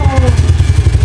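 A motorcycle engine with a dead battery, just started, idles loud and close, a rapid steady chugging throb.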